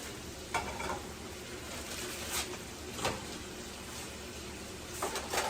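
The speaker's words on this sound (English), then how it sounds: "we're gonna use this to cook the tomatoes and the mushrooms." Tomatoes and mushrooms frying in a small pan in a cramped kitchen, a steady hiss of sizzling with a few scraping stirs and clunks on top, close and even, with no voices.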